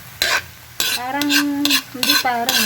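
Dried labahita fish is stirred into fried rice in a hot pan, with a few sharp scraping strokes of the utensil against the pan over a soft sizzle of oil.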